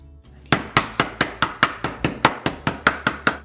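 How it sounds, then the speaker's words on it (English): A meat mallet pounds beef through cling film in about thirteen sharp, evenly spaced thuds, close and loud, with no talking. "So we're going to cover it in cling film before we pound it out, just to keep our tools clean"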